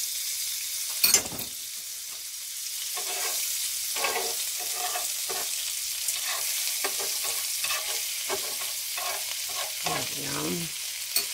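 Eggs fry in melted butter in a pan for over-easy eggs, a steady close sizzle with intermittent scrapes and taps of a spatula and one sharp knock near the start, no voices.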